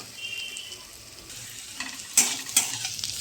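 Onions frying in a pan with salt to brown them, a soft steady sizzle with two sharp metallic scrapes from stirring near the end, and no voices.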